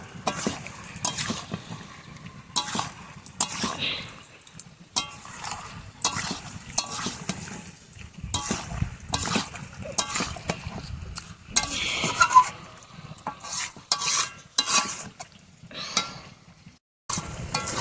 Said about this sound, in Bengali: মুলি মাছটা এইভাবে কষে কষে রান্না করতে হবে